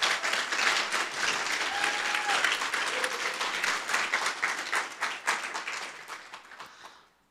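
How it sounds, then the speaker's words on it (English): A conference business meeting audience gives a big round of applause, steady many-handed clapping that holds for several seconds, then thins and dies away; no talking. "So let's give them a big round of applause."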